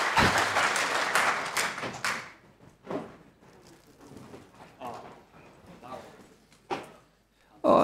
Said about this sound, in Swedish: Eller resultatet, applåderna och fotstamp.